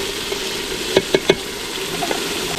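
Turmeric is stirred into food in a village cooking pot: three quick scraping strokes close together near the middle, over a faint low sizzle.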